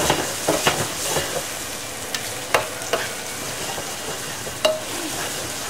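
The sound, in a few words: food sizzling and frying in a pan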